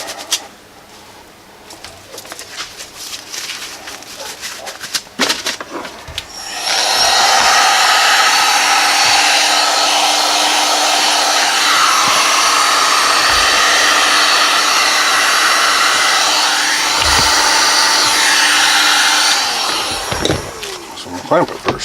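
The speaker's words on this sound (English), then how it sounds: "I'm going to take the heat gun and I'm going to kind of tighten that up right there." A heat gun warming a Kydex holster switches on with a loud, steady broadband blowing roar that runs for about thirteen seconds and then cuts off, with quieter workshop handling noises before and after.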